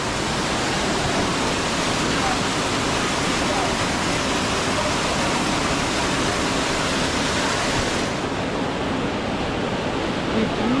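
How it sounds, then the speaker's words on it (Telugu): Water pouring steadily at Elephant Falls waterfall in Shillong, Meghalaya, a dense, unbroken rushing roar that stays loud and close the whole time with no voices over it. "ఈ చిన్న బొక్కలో నుంచి వాటర్ వస్తున్నాయి, ఇవి చాలా బాగుంది"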